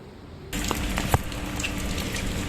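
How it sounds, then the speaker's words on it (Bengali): Heavy rain in Santragachi starts abruptly as a dense, loud hiss of pouring water, steady and close, with a few louder splashes mixed in. "প্রচণ্ড বৃষ্টি হচ্ছে এখন টিপ টিপ করে ঝিঝির করে"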